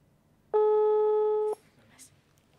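Telephone tone as a call is placed: one loud, steady tone lasting about a second, then quiet room noise.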